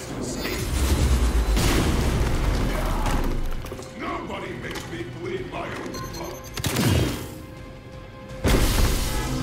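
An attack on Crossbones in the video game Marvel's Midnight Suns: heavy booming impacts and crashing hits with rumbling low end and a few sharp swooshes, loud and layered over game music.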